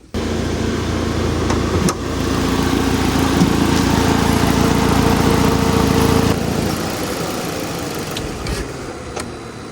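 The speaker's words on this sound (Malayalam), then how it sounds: "നിങ്ങൾ നേരത്തെ കേട്ടതാണ് എഞ്ചിൻ സൗണ്ട്" A Maruti Suzuki Ignis engine runs steadily at close range, a loud even hum with a slight drop in level near the end, and no voices.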